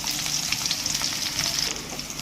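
Sliced onion frying in hot oil for eggplant thokku, a dense, steady crackling sizzle with constant fine popping throughout, close and fairly loud with no voices.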